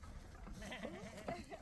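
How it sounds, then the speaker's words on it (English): Goats bleating outdoors on a hillside farm near their goat house, a few wavering calls rising from a faint, noisy background, with a voice speaking quietly underneath. "We can see the goats, they've come out for the day."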